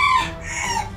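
A Lasani breed rooster gives a short, loud, close call with a rising and falling tone, heard alone for about a second.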